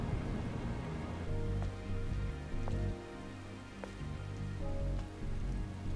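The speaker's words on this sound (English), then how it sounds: "This must be Earth's rain." Steady rain pours down in the post-apocalyptic city of Ador 7 in the video game Stellar Blade, a dense constant hiss over low ambient game music, with a few sharp drip-like clicks scattered through.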